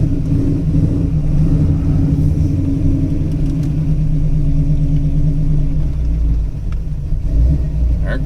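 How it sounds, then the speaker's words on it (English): A cammed Ford Foxbody Mustang 5.0 V8 idles roughly and lopes, with a heavy, uneven low rumble that runs steadily throughout, close and loud, and a slight dip near the end. "Let the car settle down, find idle."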